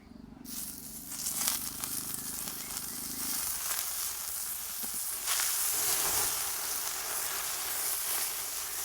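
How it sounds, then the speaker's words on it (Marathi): Brinjals placed on a hot griddle after roasting chillies and garlic, a strong crackling sizzle that flares up near the start and continues as a steady hiss, close and fairly loud. "आता ह्याच गरम तव्यावर आपल्याला वांगे टाकून घ्यायचे इथं"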